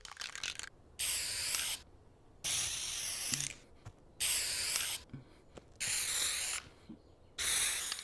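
Cartoon spray can hissing out a military-style uniform, heard as five loud, bright bursts of about a second each, spaced by short quiet gaps.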